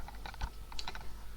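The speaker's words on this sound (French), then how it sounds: "Attendez, avec le clavier." Quiet, quick taps on a computer keyboard, a short irregular burst of keystrokes close by.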